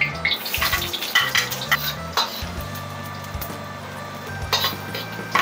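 Ginger sautéing in a pan for ginataang laing, a soft sizzle under repeated scraping and clinking of a utensil against the pan, close and moderately loud.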